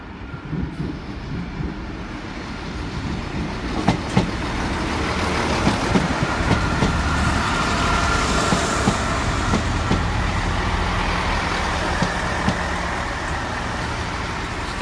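A Great Western Railway Turbo diesel unit, 166221, runs through Southampton Central station, its loud, steady rumble and wheel noise swelling and holding close by throughout, with occasional sharp clanks over the roar.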